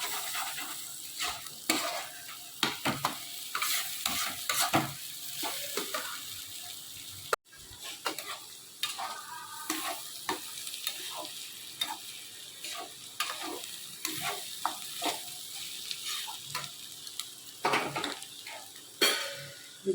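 Potatoes frying in a pan, stirred steadily with a utensil that scrapes and clatters against the metal over a continuous sizzle. Some water sounds come through as well.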